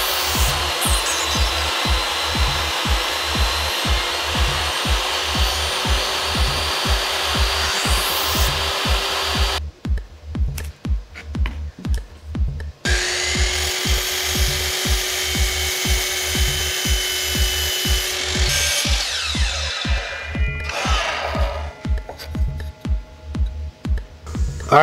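A saw cuts 3/4 inch wood stock into one-inch strips, loud and close with a steady rhythmic pulse, briefly stopping and restarting between passes, with no talking.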